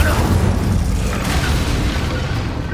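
Fiery spell blast from the Incendio charm in Hogwarts Legacy, a dense roaring burst of game combat noise that fills the whole clip at loud, steady level.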